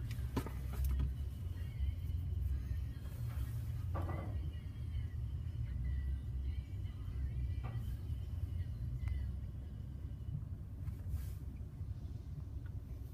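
A touchless tunnel car wash at a Shell station runs with a low, steady mechanical rumble heard from inside the car, with faint hissing and brief spray bursts.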